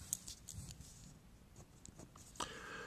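Pen or pencil scratching across paper while math is worked out by hand, soft intermittent strokes and taps with a brief slash, close and faint with no talk.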